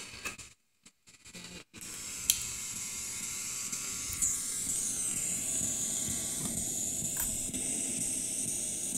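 A PSP7 ghost box device hisses steady broadband static, with brief dropouts near the start and a few faint chirps and tones, all fairly quiet and continuous once it settles.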